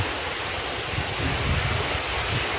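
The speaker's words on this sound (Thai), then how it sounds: "ดูบรรยากาศครับลมเย็น เย็นมาก เย็นจริง ๆครับสบายเลย" Cool wind blows steadily across an open temple rest pavilion beside fish ponds and a canal at Wat Rong Khun, a continuous broadband rush with low buffeting gusts on the microphone and no one talking.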